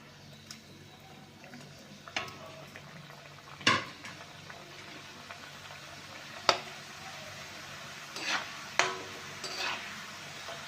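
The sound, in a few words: snack bites deep-frying in hot oil in a kadai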